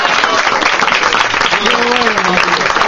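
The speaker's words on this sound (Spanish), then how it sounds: "Un aplauso para Matías." Applause from a studio audience on a live Spanish television show, a dense steady wash of clapping lasting the whole stretch, with a faint voice and some tonal sound surfacing partway through.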